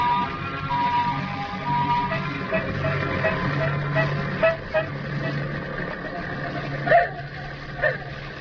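A car drives along as a radio drama sound effect: a steady low engine rumble runs throughout, with a couple of brief horn-like toots near the end, faint and muffled.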